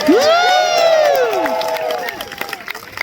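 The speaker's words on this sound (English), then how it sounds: "So everybody clap for our bird team." Crowd at a Renaissance faire falconry show cheering for the bird team, opening with loud whoops and shouts that taper off, then scattered clapping and crowd noise toward the end.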